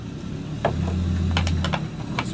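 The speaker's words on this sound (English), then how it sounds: "I suppose we can use the neighbor's noisy truck here for a drum roll because it sounds like brrr." A neighbour's noisy truck engine gives a steady low rumbling drone underneath close, sharp clicks and taps from nearby handling.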